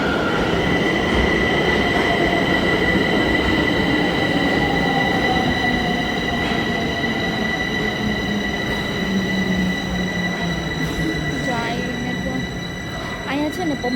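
Bucharest metro train pulling in and passing a platform near a large park, a loud continuous rumble of wheels on rails with high squealing tones and rattling, fading slightly near the end, with people talking underneath.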